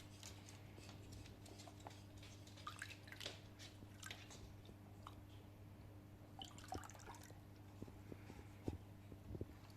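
Water drips and trickles into a bucket of water as crushed powder is rinsed in, the faint, sporadic drops and splashes sitting over a steady low hum.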